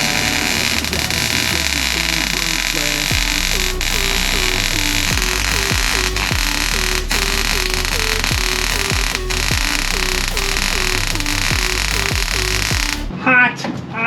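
A grinder left switched on in a workshop during body work on a 1954 Bel Air, a steady loud electric motor whine with a rhythmic pulsing buzz, running continuously until it cuts off near the end.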